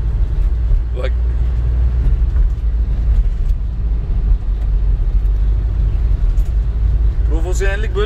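A vehicle rumbles past close alongside on the road, a steady low engine and tyre drone heard from inside a moving car, while people talk over it.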